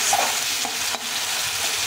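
Spice masala frying in oil, a soft continuous sizzle with an occasional light stir of the spoon, close by and steady, no one talking.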